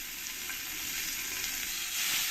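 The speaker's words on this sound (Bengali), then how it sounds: "তেলটা ভালো করে গরম হয়ে গেছে এবার আমি এক এক করে এর মধ্যে এই মাছগুলো সব দিয়ে দেবো" Puti fish frying in hot peanut oil give off a loud, continuous hiss that swells slightly toward the end.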